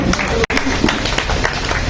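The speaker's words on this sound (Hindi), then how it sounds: "उनके लिए बहुत बहुत तालियां" A meeting crowd of the Bal Ramleela committee in Kotdwar applauds the local councillor, dense steady clapping filling the room, briefly broken by one short gap, with voices mixed in.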